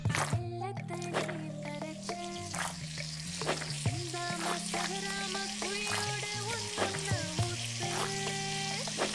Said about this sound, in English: the sizzling when you put a vegetable in the grease